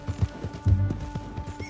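Horse hooves clip-clopping in Red Dead Redemption 2, a few soft, irregular thuds close by under a low rumbling game background, with no speech.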